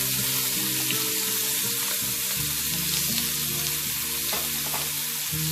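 Garlic and ginger fry in hot oil in a pan with a loud, continuous sizzle and crackle, close up and steady, with a low background hum and no talking.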